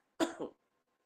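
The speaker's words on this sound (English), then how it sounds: "Let me clear my throat." A single short throat clearing, close and distinct, followed by silence.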